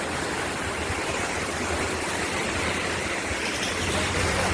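A flooded river in Kerala, swollen after a landslide, rushes past in a dense, unbroken roar that stays steady and close the whole time.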